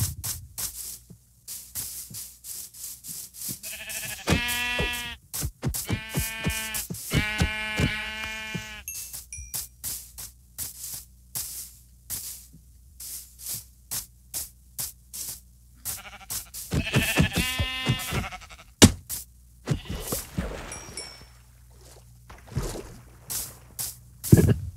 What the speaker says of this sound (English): I'm going to go ahead and kill these sheep over here